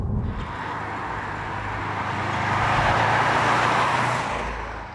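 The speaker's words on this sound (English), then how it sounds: "Subaru has also retuned the entire exhaust system to give you more sound and more rumble from the back end" A Subaru WRX STI with a turbo engine and retuned exhaust, a deep, steady rumble that slowly builds to a peak and then eases off, like the car accelerating past at close range.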